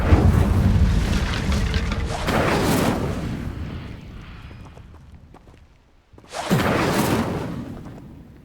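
Incendio fire spell blasts in Hogwarts Legacy, two loud booming whooshes of flame, the first rumbling and fading over several seconds, the second bursting sharply after a brief near-silence.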